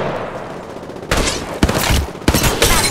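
Gunfire in the mobile battle royale game Apex Legends Mobile: after a quiet stretch, three loud bursts of automatic weapon fire ring out close by, separated by short gaps, with no talk over them.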